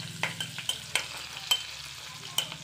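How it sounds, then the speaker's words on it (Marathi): Green chillies, asafoetida and ginger are sautéed in hot oil in a pan for samosa filling, a steady close sizzle broken by several sharp scrapes of a spoon against the pan. "2 मिनटं परतूया यांना छान."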